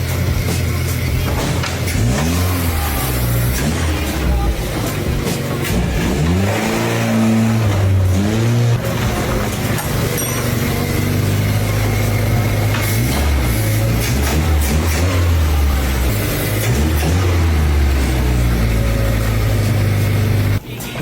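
A small engine runs steadily after its carburetor float is adjusted, revving up and down in repeated swells over a constant idle hum, loud and close throughout.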